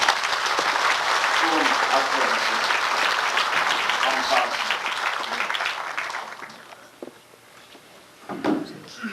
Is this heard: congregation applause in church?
yes